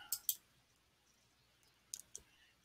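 Quiet, sharp mouse clicks in two pairs, one quick double click near the start and another pair a moment later, with near silence between.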